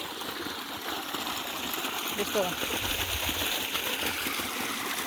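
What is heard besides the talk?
water flowing from a pump motor in a sugarcane field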